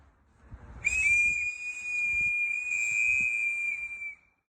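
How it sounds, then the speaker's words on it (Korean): A single sustained shrill whistle blast from mourners, steady and piercing for about three seconds, with faint low rumbling in the background. "당시 그의 죽음을 애도하는 시민들은 내부 고발을 상징하는 호루라기를 불었습니다"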